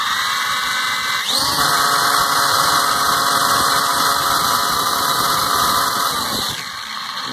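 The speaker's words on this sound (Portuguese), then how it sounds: "O motor do drone ficou um pouquinho barulhento" A damaged drone motor spins up with a high, whining buzz and squeal, running noisily and steadily for several seconds at close range before spinning down, with no talk.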